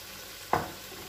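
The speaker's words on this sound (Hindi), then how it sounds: "अब हम इसको एक साइड से थोड़ा फ्राई होने देंगे" Green chili pakoras fry in oil, giving one brief close stir-and-sizzle burst that quickly fades back into a faint steady background.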